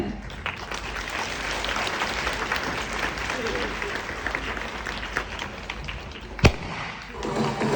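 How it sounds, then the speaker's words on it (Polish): Sustained applause from an audience fills the room, a dense patter of many hands clapping, with one sharp thump near the end. "Wielkie, wielkie brawa dla Joanny Szczęsny i jej zespołu"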